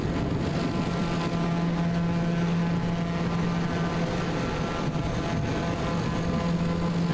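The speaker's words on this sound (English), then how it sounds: "we can pull back a little bit and get less engine noise" Steady, droning aircraft engine noise in Microsoft Flight Simulator 2020, a continuous hum with a constant low tone and airy wash filling the whole stretch without talk.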